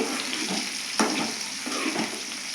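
Green chilies fry in a pan for a ridge gourd chutney, giving a steady close sizzle with stirring scrapes and a sharper burst about a second in.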